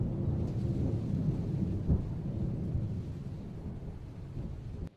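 Low thunder rolls and rumbles steadily during a thunderstorm, fading slightly toward the end with no voices.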